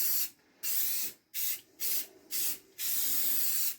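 Clear coat sprayed from an aerosol can onto a wooden farmhouse-style toothbrush holder, in six separate bursts of hissing spray, the first and last longer, with short silent gaps between them.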